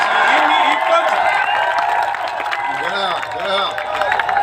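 A crowd at a Hindi poetry recital breaks into steady applause with a scatter of cheers and voices mixed in, filling the room and rising again toward the end.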